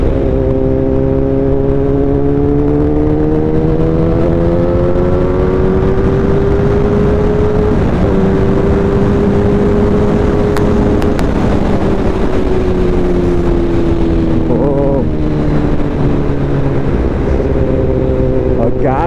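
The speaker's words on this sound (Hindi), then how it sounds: "क्या बाइक पटाखे फोड़ रही है यार" A Kawasaki ZX10R motorcycle drones loudly and steadily on the road, its engine pitch drifting, with a few sharp exhaust pops around the middle and wind rushing over the microphone.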